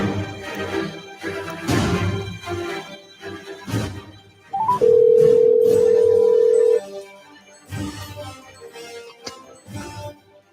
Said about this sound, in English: Let's see if I can get him on the phone here.